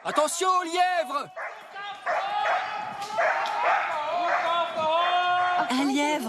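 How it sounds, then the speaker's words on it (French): A hunting dog chasing a hare gives excited yelping barks and whimpering cries, a close run of high, strained calls followed by sustained whines. "Le chien l'a pris en chasse."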